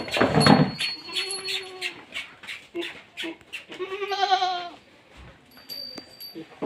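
Beetal goats in a farm pen bleat several times, with one long nearby bleat standing out among shorter calls and light pen noise.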